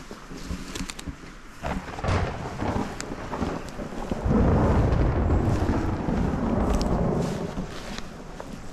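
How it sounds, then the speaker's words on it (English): Thunder rolls during an outdoor storm: a deep, continuous rumble that swells noticeably about halfway through and stays loud and sustained, with no voices over it. "You might be able to hear that thunder."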